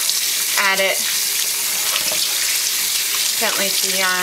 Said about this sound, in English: I'm just gonna wash it with a bit of dish soap.